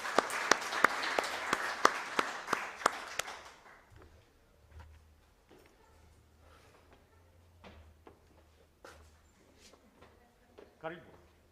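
Scattered applause at an international scientific conference rises briefly, with sharp individual claps standing out, then fades by four seconds into quiet room noise and faint movement, with a voice speaking.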